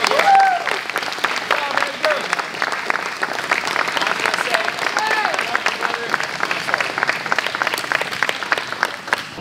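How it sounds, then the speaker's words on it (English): Audience applauding a competitor at a grappling match between Alex Larmey and Edgar Montoya, sustained clapping from the crowd with voices and some whistles or cheers mixed in over the whole stretch. "So please give him a round of applause."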